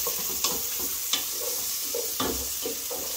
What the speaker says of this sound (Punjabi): ਆਹ ਆਵਾਜ਼ ਜੀਰੇ ਨਾ